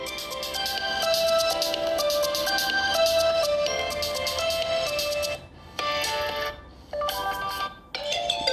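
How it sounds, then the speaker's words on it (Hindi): A Tecno Spark 7T phone speaker plays a melodic ringtone, a steady tune of bright tones that fills the clip and cuts out briefly near the end, moderately loud and close. "स्पीकर की क्वालिटी मैं आपको चेक करवा देता हूँ। तो इतना लाउड नहीं है लेकिन ठीक ही है।"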